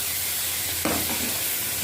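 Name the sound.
tempering spices sizzling in oil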